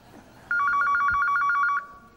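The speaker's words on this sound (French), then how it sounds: "C'est le téléphone qui sonne." An old-style telephone bell rings in a rapid, steady trill for just over a second, loud and clear against faint room noise, in a French comedy TV sketch parodying an American detective scene.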